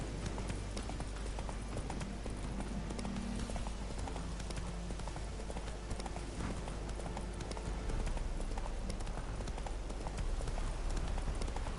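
Horse hooves clip-clop steadily in the Witcher 3 video game, a continuous rhythmic trotting under soft background ambience with no voices.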